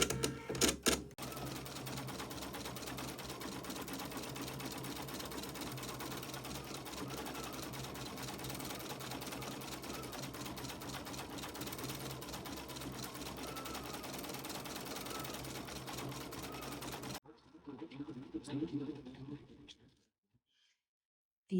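An embroidery machine stitches the satin edging of a free standing lace heart with a fast, continuous mechanical chatter. It runs loud and even for about seventeen seconds, then stops, and a quieter stretch follows.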